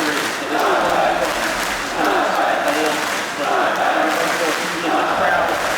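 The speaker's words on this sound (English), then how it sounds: "The crowd, they're chanting in the background, and they're chanting for NIP." Esports arena crowd at the Intel Extreme Masters 2015 final chanting in rhythmic waves for NIP, loud and sustained with repeated surges, heard alone without talk.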